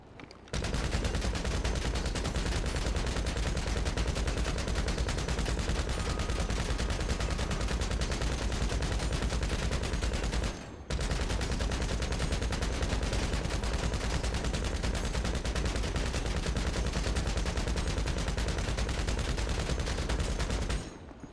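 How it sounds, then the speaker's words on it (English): Combat MG machine gun in a video game fires in a long, continuous stream of rapid shots, loud and close, with a brief pause midway before the relentless fire resumes. "And here is the Combat MG as a comparison."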